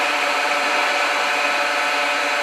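A power flush machine runs on a blocked Viessmann Vitodens combi boiler, giving a loud, steady, broadband rushing and whirring drone that holds constant throughout with no talk.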